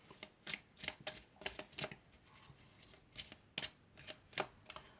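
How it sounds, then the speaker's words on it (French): Tarot cards are shuffled by hand in rapid riffling bursts, about a dozen short crisp flutters in an uneven rhythm, close and fairly quiet with no talk. "On va mélanger encore."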